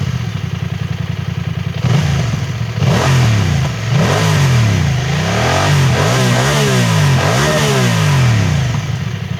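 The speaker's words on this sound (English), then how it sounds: "The 270-degree crank gives it that snarl that's always enjoyable" A 2025 BMW F900XR sports tourer with a 270-degree crank twin revs hard and loud, pitch climbing and falling through several throttle blips, with a deep, snarling, continuous engine note.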